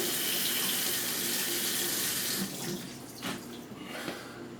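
Tap water runs steadily and loudly while winemaking equipment is rinsed under it, the rushing stream softening and splashing unevenly toward the end.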